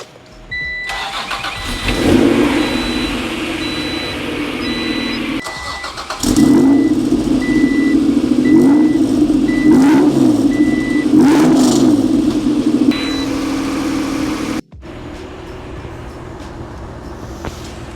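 A 1994 Acura NSX NA1, just refilled with coolant after overheating repairs, cranks and fires up, then settles into a steady mid-pitched idle. Brief breaks interrupt the running engine, with electronic warning chimes over it before a quieter idle near the end.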